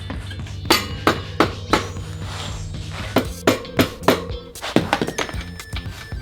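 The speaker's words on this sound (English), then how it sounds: "anything that grabs around like that, you're gonna have to hit it with a hammer" Hammer blows strike a motorcycle suspension part in a workshop, a dozen sharp metallic knocks in uneven clusters, close and loud with ringing clinks between them.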